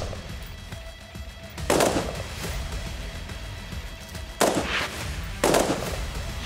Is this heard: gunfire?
yes